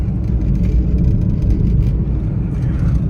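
A Hyundai Santro drives fast along a mountain road on the way from Diskit to Pangong Lake, its engine and road noise a loud, steady rumble from inside the car with a faint whir on top.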